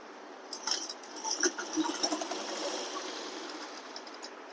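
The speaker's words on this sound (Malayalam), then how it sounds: "6 ഇഞ്ചിലാണ് നമ്മൾ തയ്ച്ചു പോകുന്നത്." A sewing machine stitches a churidar (salwar) pant seam, giving an irregular run of light mechanical ticks and clatter at a moderate level, close by, with no talking.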